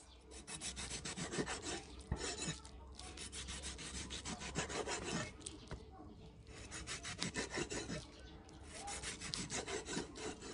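A knife slicing through dried pork skin, prepared for homemade crackling, gives a steady, close, rasping rhythm of repeated strokes that carries on almost without pause.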